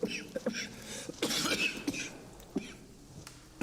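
Several short, harsh coughs come in uneven bursts, fairly close and moderately loud, with a raspy throat-clearing quality.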